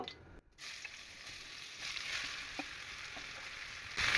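Cut hog plums sizzle in hot mustard oil seasoned with cinnamon, cardamom and bay leaves, a faint, steady hiss that swells louder near the end.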